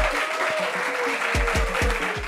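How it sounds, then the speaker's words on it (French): An audience applauds a guest over a background of rhythmic, thumping music with a sliding tone, the clapping a steady wash beneath the beat. "On applaudit pour lui."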